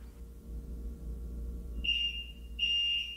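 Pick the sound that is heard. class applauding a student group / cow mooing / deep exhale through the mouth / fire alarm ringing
fire alarm ringing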